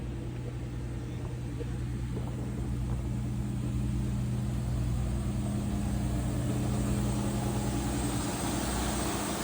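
Steady, loud engine drone from a fishing boat motor on shallow water, a continuous low rumble with even hum throughout and no breaks, close by and unaccompanied by talk.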